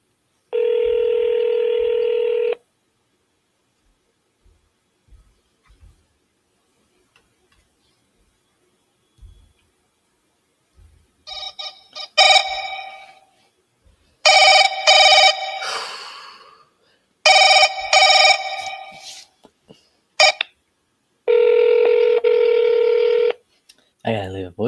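Telephone dialing another landline number: a long ring tone, then a quick series of loud keypad beeps in clustered bursts, followed by another steady ringing tone, with faint clicks in the gaps.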